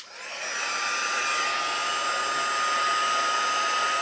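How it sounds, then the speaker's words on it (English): A heat gun for embossing runs on heat setting 2 over ordinary cardstock, giving a steady, fairly loud whooshing fan hiss with a faint whine that holds unbroken from start to finish, with no talking. "I think you can hear me over the embossing gun because it is very quiet now"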